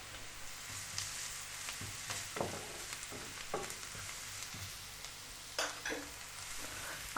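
Onion frying in a pan, a soft continuous sizzle broken by repeated spatula scrapes and stirring knocks at an uneven pace, close but fairly quiet, with no voices.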